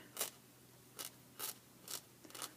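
Scissors snip through felted wool while a monster figure is trimmed, four or five crisp separate cuts at a steady, unhurried pace, close and fairly quiet, with no talking.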